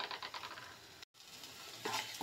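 Potatoes roasting in a pan for aloo halwa, a faint crackling sizzle with light stirring scrapes, broken by a brief silent gap, then a slightly louder scrape.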